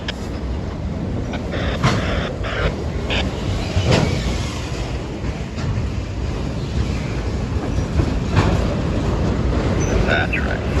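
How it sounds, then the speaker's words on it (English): Freight train rolling past at a railfan spot in Plant City, Florida, a steady broadband rumble with clicking wheel noise and occasional metallic clanks throughout, with some speech and radio chatter mixed in. "we're almost to the end of this train."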